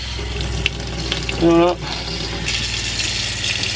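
Water gushes from a newly replaced kitchen tap in a camper van with a hissing, splashing rush, briefly interrupted by a short spoken word.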